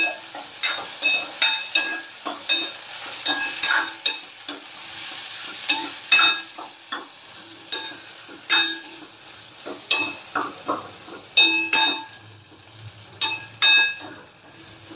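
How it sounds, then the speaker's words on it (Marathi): A potato mixture with coriander is stirred in a hot pan, a steady sizzle of frying under repeated scraping strokes of a spoon against the pan, close and fairly loud, with no talking. "आता हे चांगलं मिक्स करून घेऊ।"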